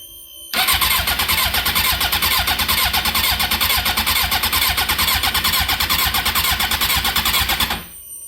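A Suzuki GSX-R 750 K7 motorcycle engine cranks on its starter without catching, a loud, steady, rapid churning that begins abruptly, runs for about seven seconds, then cuts off, close and without talking.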